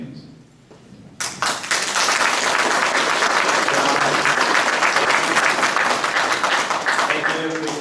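A crowd at a 2015 federal all-candidates debate in Teeswater bursts into loud, sustained applause after a brief quiet moment, clapping continuing steadily to the end.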